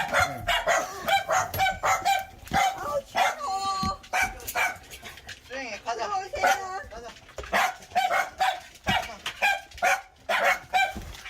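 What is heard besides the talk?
dog barking at visitors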